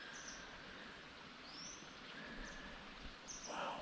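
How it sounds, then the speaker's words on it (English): Faint, scattered bird chirps and tweets ring out in a wild Scottish woodland beside a waterfall and river, with a soft rush of flowing water underneath. "I can just hear all the birds tweeting."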